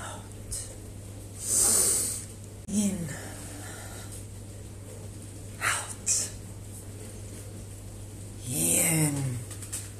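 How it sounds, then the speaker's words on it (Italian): Slow deep breaths drawn in and pushed out by a person during a relaxation exercise, four loud airy breaths spaced a few seconds apart over a steady low hum. "respirate profondamente"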